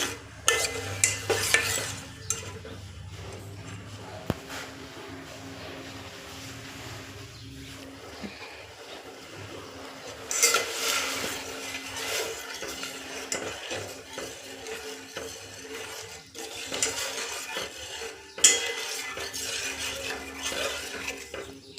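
Jaggery melts in a pan while being stirred without a break, making a continuous scraping, swishing sound with occasional clinks of the utensil against the metal.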